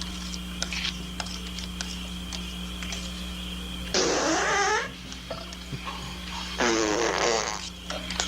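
Two stock cartoon fart sound effects, each a buzzy, wobbling burst about a second long, separated by a pause over a steady electronic hum.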